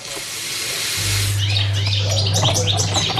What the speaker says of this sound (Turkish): Ay şu kuşlar bir susmadı ya üf